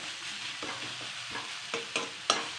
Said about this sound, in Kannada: ಎಣ್ಣೆಯಲ್ಲೇ ಸ್ವಲ್ಪ ಫ್ರೈ ಮಾಡೋಣ ಅರಿಶಿನ ಇದು ಖಾರದ ಪುಡಿ